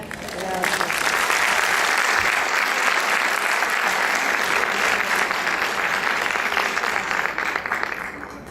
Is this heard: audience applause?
yes